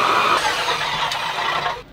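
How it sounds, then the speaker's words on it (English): A hand or power ice auger bores through lake ice on an early-morning ice fishing trip for smallmouth bass, giving a steady grinding, whirring drone that holds for about two seconds and then cuts off. "we got John drilling"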